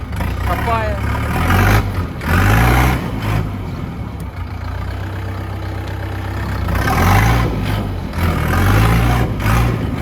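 A HORST L404U compact diesel tractor engine runs steadily with a low rumbling throb, swelling louder in places, close by.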